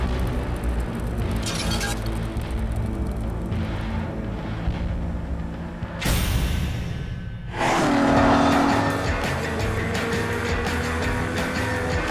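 A 950-horsepower Ferrari LaFerrari supercar roars past with a sustained engine howl, then a sudden loud rushing burst and a louder, rising engine note close by.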